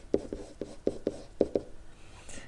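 Marker or chalk strokes on a board, a quick run of about eight short tapping scrapes as math is written out, close and moderately quiet with no talking.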